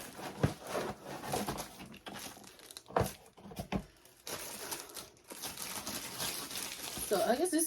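Plastic packaging around a ring light is unwrapped, giving close, irregular crinkling and rustling bursts with some tearing between quieter pauses, under intermittent talk.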